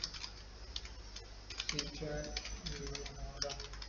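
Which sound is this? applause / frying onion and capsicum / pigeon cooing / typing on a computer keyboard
typing on a computer keyboard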